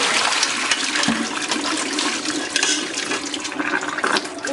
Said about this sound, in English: I'm trying to drain the excess water.